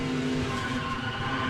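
Stock cars roar at a 2007 NASCAR Busch Series Pepsi 300 race as a two-car crash unfolds, with a loud, continuous engine and tire-skid wash filling the whole short stretch.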